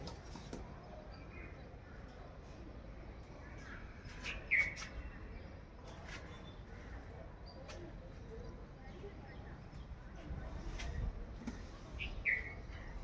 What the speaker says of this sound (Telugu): ఒక పక్కనేమో పక్షుల సౌండ్ భలే అనిపిస్తూ ఉంటుంది రకరకాల బర్డ్స్ వస్తాయి